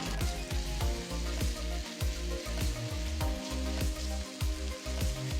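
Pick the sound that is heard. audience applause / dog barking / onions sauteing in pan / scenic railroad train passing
onions sauteing in pan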